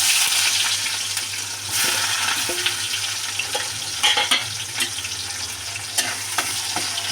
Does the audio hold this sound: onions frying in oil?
yes